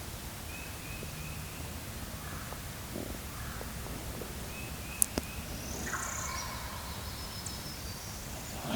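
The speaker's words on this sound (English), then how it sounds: "He's still over there gobbling." A wild turkey gobbling in the distance on public hunting land in Alabama, a few faint calls rising over quiet outdoor background noise.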